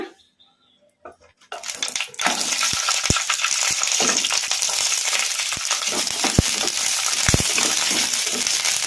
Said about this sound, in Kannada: ಈಗ ಇದಕ್ಕೆ ನಾವು ತೊಳೆದು ಇಟ್ಕೊಂಡಿದ್ವಲ್ಲ ಹಸಿಮೆಣಸಿನ್ಕಾಯಿ, ಈಗ ಇವನ್ನು ಹಾಕಿ ಫ್ರೈ ಮಾಡ್ಕೊಂಬಿಡೋಣ